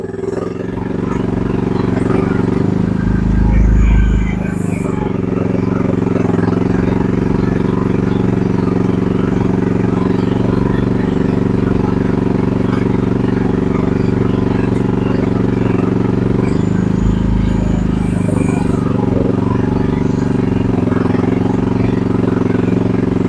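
A Chinese gasoline 1-ton mini excavator driving along, its small engine droning steadily and loudly up close with a constant low hum, surging briefly twice as it works harder, tracks clattering faintly beneath.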